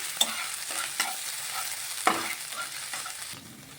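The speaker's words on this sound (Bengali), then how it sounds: "ভালো করে লঙ্কা আদাটা একটু ভেজে নিচ্ছি" Chopped ginger and green chillies fry in a pan with a steady close sizzle and several sharp scraping stirs, with no talking.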